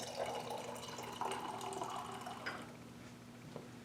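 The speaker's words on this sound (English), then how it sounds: "I'm going to add more of my nitric acid." Nitric acid poured into a laboratory beaker, a soft liquid trickle and splash close by at low level, with a few faint drips and no talk.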